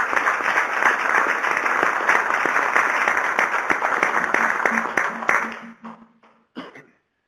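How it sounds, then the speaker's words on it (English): An audience applauds after a presentation at a discussion on connected, automated, shared and electric vehicles, with steady dense clapping for about five seconds that thins out and fades, a few scattered claps and a cough at the end. "why don't we give him a round of applause for a great presentation"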